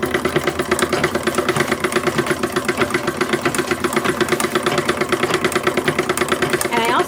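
Antique 1870s sewing machine stitching blue cotton lining, a steady rapid mechanical chatter with rhythmic clicking that runs continuously, with a voice in the background.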